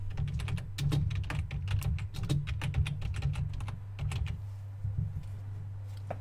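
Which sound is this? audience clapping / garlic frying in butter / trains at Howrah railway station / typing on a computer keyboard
typing on a computer keyboard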